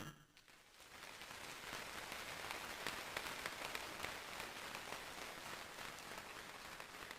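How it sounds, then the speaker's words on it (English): A large audience at a high school dedication ceremony applauds in a dense, steady wash of clapping that swells in the first second and holds loud and even, with no talk over it. "your teachers and your administrators and your parents deserve a huge round of applause from you"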